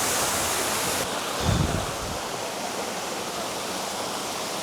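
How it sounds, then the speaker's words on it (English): A waterfall roars in a steady, loud, broadband rush, close and constant, with a brief low thump partway through and no talking. "we got the second waterfall right over here"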